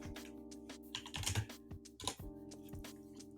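Quiet clicking of fingers typing on a computer keyboard at a home streaming setup, keystrokes coming in uneven bursts over a steady low electronic hum, with no talking.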